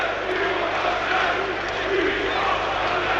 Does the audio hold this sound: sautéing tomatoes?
no